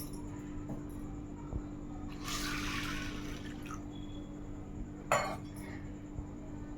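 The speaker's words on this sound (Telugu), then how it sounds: "టూ టైమ్స్ వాష్ చేసి వాటర్లో నానబెట్టేసుకుందాం." Sago pearls being washed in water in a bowl, soft swishing and dripping with a few clinks of utensils against the dish, quiet and close.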